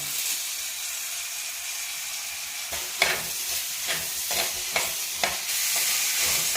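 Curry leaves sizzle in hot oil for a Kerala-style mutton curry: a steady, close frying hiss runs throughout, with several short bursts of stirring and spattering in the second half.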